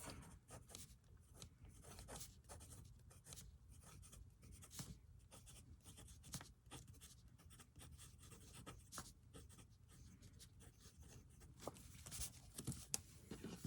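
A fountain pen with Ferris Wheel Press Workshop Wishes ink scratching across paper, soft close-up strokes and taps in an irregular rhythm, quiet and unaccompanied by talk.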